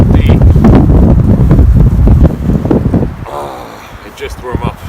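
Strong winter windstorm wind buffets the microphone in loud, gusty low-frequency blasts, easing after a couple of seconds into a softer rushing background.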